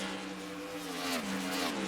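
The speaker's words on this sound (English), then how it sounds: "Oh, we got a car coming into the pits." An Indycar racing game car entering pit lane, its engine tone sliding downward as it decelerates past, moderately loud and alone.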